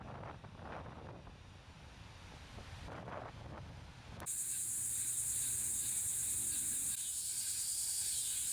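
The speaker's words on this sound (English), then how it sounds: "It's really windy." Strong coastal Texas wind buffets the microphone in a continuous roar, rising sharply halfway through into a harsh, louder blast that holds to the end.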